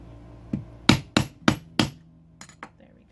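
Hammer strikes on the end of a leather bracelet during leatherworking: four loud, sharp blows in quick succession, then two lighter taps, close and alone with no talking.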